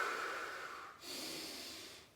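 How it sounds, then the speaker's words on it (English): Breathing through the nose during a spine movement exercise, two soft, close nasal breaths, a long inhale and then an airy exhale, heard alone and faint. "breathing through the nose"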